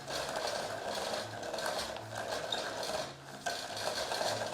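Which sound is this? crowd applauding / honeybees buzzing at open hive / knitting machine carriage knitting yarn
knitting machine carriage knitting yarn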